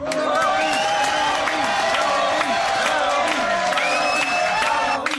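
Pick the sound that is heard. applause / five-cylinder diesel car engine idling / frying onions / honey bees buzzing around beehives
applause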